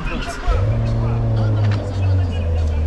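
A car engine turns over and catches, then revs loudly and holds a deep, steady drone close by, with voices partly under it.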